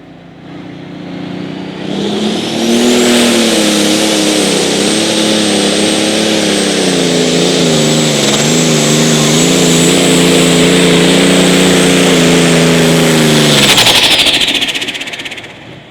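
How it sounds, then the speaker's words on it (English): A 10,200 pro stock pulling tractor engine at an outlaw pull in Wisner, Nebraska, drags a sled down the track, roaring up loud and sustained for about twelve seconds with a wavering pitch before cutting off. "One of his motors is propelling the sled that he's dragging down the track."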